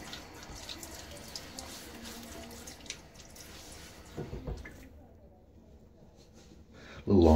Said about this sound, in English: All right, let me throw some water on my face.